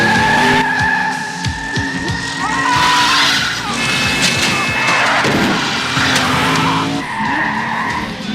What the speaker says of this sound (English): he spins the car around